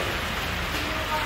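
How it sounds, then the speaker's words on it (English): Rain pounding down at an outdoor collector car swap meet, a dense steady hiss of drops drumming on surfaces, loud and continuous throughout. "You can hear the rain pounding down."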